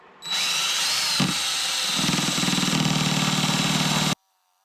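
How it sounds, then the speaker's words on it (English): A power drill whines steadily and loudly for about four seconds, drilling steam passages in a part for a scratch-built horizontal model steam engine, with a brief dip and heavier grinding load partway through, then stops abruptly. "this is actually the second one I'm drilling"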